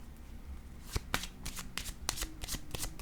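Tarot cards are shuffled and laid down on a table in a series of crisp, close slaps and flicks, sharp and irregular, with quiet gaps between them and no talking.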